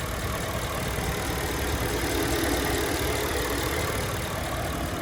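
Bentley Mulsanne Speed twin-turbo V8 running steadily at idle, a low, even hum heard with the hood open, moderately quiet and unbroken, no voices.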